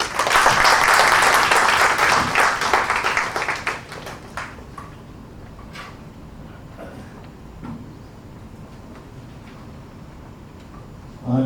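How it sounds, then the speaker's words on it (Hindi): Audience applause at an address by India's External Affairs Minister to the first batch of Kailash Mansarovar pilgrims, loud and dense for about four seconds, then dying away into quiet room noise with a few scattered claps. "भी आप एक बार ताली दें"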